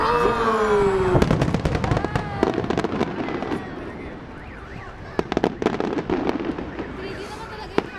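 Fireworks bursting in a dense rapid series of sharp cracks and booms, some near and some further off, over a festive crowd with people talking and exclaiming throughout.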